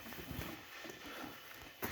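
A ten-year-old heavy draft mare from the Ternopil region clops her hooves in faint, muffled, irregular thuds outdoors, with low background noise and no voices.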